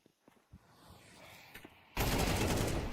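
Counter-Strike 2 match with gunfire and a barrage of utility grenades: a few sharp scattered shots and pops build into a loud, dense burst of explosive noise that fills the final second.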